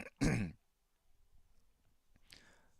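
A man clears his throat once, sharply and close to the microphone, followed by quiet stillness and a soft breath or rustle near the end.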